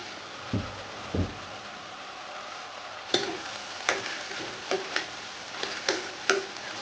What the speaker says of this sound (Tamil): நல்லா வதங்கட்டும் பூண்டும் சுண்டக்காவும் வதங்கி வரும்போது